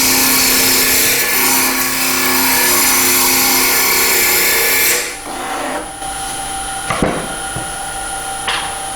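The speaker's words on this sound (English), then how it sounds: "I like using this as a roughing gouge because all the shavings go that way rather than sort of up towards your" A roughing gouge cuts a spinning wood blank on a lathe, producing a loud continuous rasping, scraping roar for about five seconds, then it stops, leaving the lower hum of the lathe and a few light knocks and scrapes.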